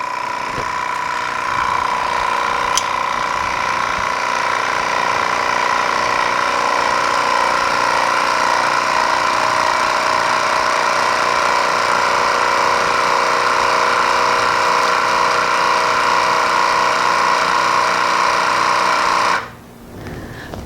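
A vacuum sealer attachment pumps air from a canning jar lid with a steady, loud motor whine that holds for nearly twenty seconds before cutting off abruptly, close up with no talking.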